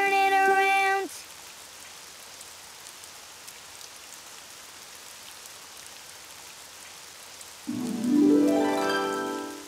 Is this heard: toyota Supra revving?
no